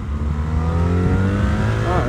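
A BMW R 1300 RS motorcycle accelerates hard, its engine note climbing steadily and loud up close over about two seconds.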